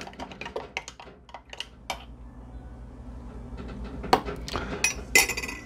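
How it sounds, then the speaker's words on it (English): Spoon clinking against a cup while stirring homemade keto coffee creamer with liquid stevia, quick light rhythmic taps close by, then a few sharper clinks toward the end. "And then I just stir it up."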